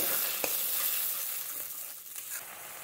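Tomato with spices frying in a pan gives a steady, bright sizzle, with a couple of small clicks as the mixture is stirred.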